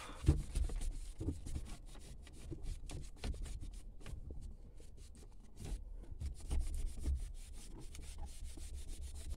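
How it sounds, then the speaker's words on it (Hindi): A normal cloth rubbed back and forth across a car dashboard after a shine product is applied, giving continuous close, soft scratchy swishes in uneven strokes, heard alone. "अभी इसको क्लॉथ से नॉर्मल क्लॉथ से इस पूरे को भाई रब कर दूंगा"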